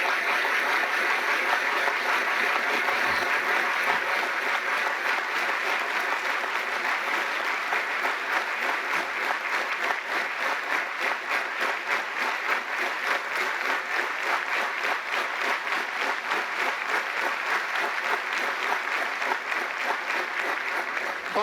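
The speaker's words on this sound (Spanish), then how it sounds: "pido un fuerte aplauso de felicitación y reconocimiento a los educadores cubanos" A large crowd applauds Cuban educators on their day with steady, sustained clapping, dense and even throughout, loud and unbroken with no talk over it.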